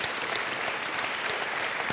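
A brief burst of steady audience applause at a French mentoring-month launch ceremony, full and continuous with a few sharper claps on top.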